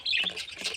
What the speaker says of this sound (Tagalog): Ani maligo ang akong lovebirds.